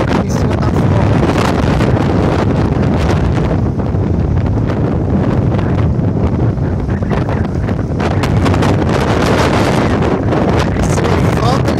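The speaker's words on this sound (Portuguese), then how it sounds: "O vento aqui em cima tá forte." Strong gusts on a hilltop above a city batter the microphone in loud, continuous buffeting rumbles, the wind roaring without pause.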